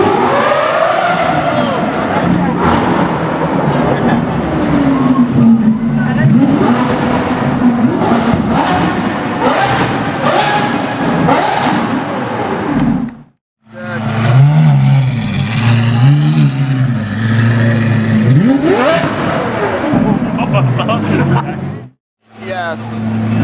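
A straight-piped Pagani Zonda-style A12 GTS sports car revs hard and launches at a loud car meet, its raw engine roar rising and falling over about twenty seconds with brief pauses, amid crowd noise and voices.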